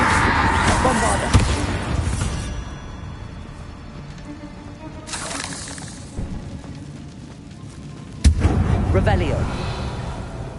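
In the Hogwarts Legacy video game, a Bombarda explosion spell goes off as sharp booming blasts with crackling debris, set among ongoing game sounds and effects of varying loudness.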